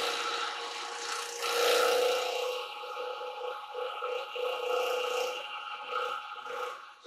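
Finish is rubbed into a turned silver birch wooden bowl, likely spinning on the lathe, giving a continuous close rubbing hiss that swells and eases in steady strokes over a faint machine hum.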